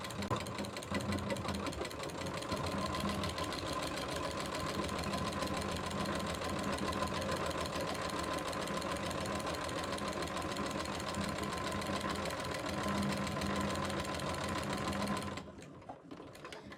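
A sewing machine stitches fabric in a long continuous run, its rapid mechanical whir and needle chatter steady and close, stopping abruptly near the end with no talk.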